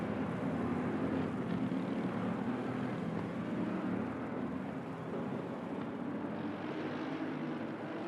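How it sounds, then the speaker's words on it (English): Steady loud rotor and engine drone of a broadcast helicopter over a Silverstone GT3 race in a racing sim, a continuous broadband roar with no pauses. "we'll just bring down the helicopter sounds a smidge"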